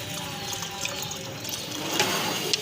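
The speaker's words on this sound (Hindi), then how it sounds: "इसके अंदर अभी मैं पानी शामिल करूँगी" Water poured into a pot while making kadhi pakora, a steady close splashing and gurgling that swells toward the end, with no talk over it.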